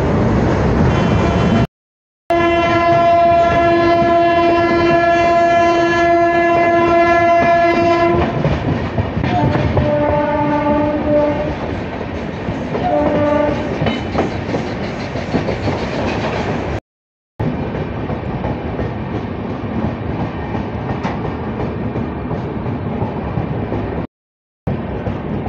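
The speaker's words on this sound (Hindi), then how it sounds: "हाँ, गुड्स ट्रेन ही है।" A goods train rolls past with a steady loud rumble and rattle of wagons, and a sustained horn sounds for several seconds early on, followed by shorter horn notes.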